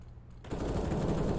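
AK rifle gunfire in an esports match of a tactical shooter, a dense burst of automatic fire that begins abruptly after a brief quiet moment and keeps going steadily, close and fairly quiet overall.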